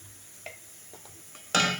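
Onions frying in a pan with a few soft stirring scrapes, quiet at first, then a sudden loud burst of sizzling near the end.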